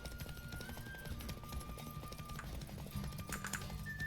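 Horse hooves clip-clop in a quick, steady rhythm at a low volume in the video game The Witcher 3: Wild Hunt, with faint high tones ringing in the background.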